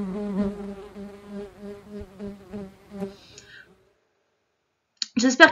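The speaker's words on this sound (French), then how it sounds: "Un frelon." A hornet buzzes in a close, wavering drone for about three and a half seconds before fading out, followed by a short burst of clicking and noise.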